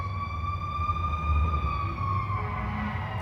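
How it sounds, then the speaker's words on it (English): Wailing emergency sirens sound steadily over low traffic rumble, the tone sliding slowly downward, moderately near. "Nor are the sirens cutting it on my nerves."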